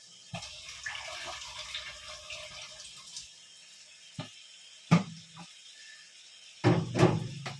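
Water is poured out during tea making. A splashing pour runs for about three seconds, followed by a few short sloshes and a final louder splash, with no talking.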